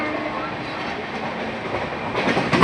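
Steady rumbling noise of a moving train carriage, with a broad rushing roar that grows slightly louder toward the end.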